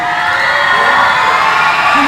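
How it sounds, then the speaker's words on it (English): Loud, steady crowd cheering with shouts and whoops fills a free throw world record attempt, a dense wall of voices from start to end. "Everyone's cheering, right?"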